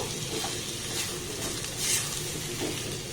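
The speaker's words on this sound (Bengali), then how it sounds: "আবারও সমস্ত উপকরণ এইভাবে একটু ভালোভাবে নাড়াচাড়া করে নেব।" Potato and raw mango with a little salt fry in a pan while being stirred, a steady hiss and sizzle with faint scraping and light clinks, no speech over it.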